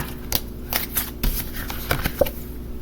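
Crisp riffling bursts of a deck of cards being shuffled, several quick flutters in a row, close and clear.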